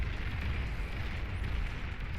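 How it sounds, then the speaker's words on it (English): A battle in the real-time strategy game Beyond All Reason, with continuous overlapping explosions that blend into one dense, steady rumble. "the explosions left and right just dealing with a bunch of the grunt spam coming out"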